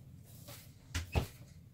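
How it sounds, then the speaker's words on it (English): A craft room door is shut with a quick double knock: a soft first contact followed by a firmer latch thud, close by in an otherwise quiet room. "let me close the door to my craft room"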